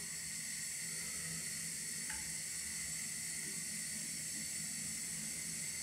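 Meat for borscht sizzles and steams in a pot on a kitchen stove, a quiet, steady hiss running throughout with no talk.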